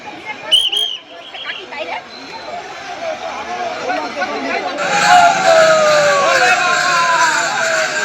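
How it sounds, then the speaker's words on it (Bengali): A huge crowd of devotees on the Tarakeswar pilgrimage at a railway gate in Baidyabati, a steady babble of many voices with whistles and a rising noisy swell later on, while someone talks nearby. "শুধু একবার ভিড়টা দেখো, জাস্ট একবার ভিড়টা।"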